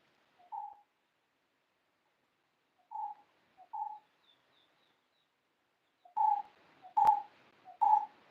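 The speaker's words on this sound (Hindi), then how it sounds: "और यहाँ एक बर्ड कर रही है साउंड" At a poultry farm, a single bird gives short, soft hooting calls, isolated at first and then three in quicker succession, fairly quiet against a silent background.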